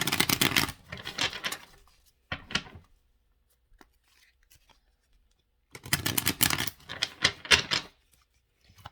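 A deck of tarot cards is shuffled by hand in two bursts of rapid riffling and flicking, close and crisp, with a near-silent pause between them and no talk.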